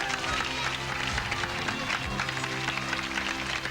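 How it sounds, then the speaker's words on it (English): A 1988 variety show audience gives a departing staff member a big round of applause, dense clapping and crowd noise rolling on continuously for a few seconds. "a big round of applause for her"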